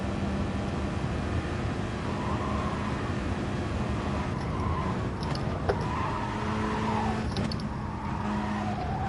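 Race cars in the Gran Turismo Sport video game roar in a constant engine drone, with brief tire squeals and skids breaking through midway and again near the end, and no voices.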